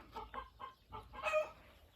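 A few young Marans chicks and hens give short clucks in loose bursts, ending in a louder, higher squawk near the end. The birds are close by and no one speaks.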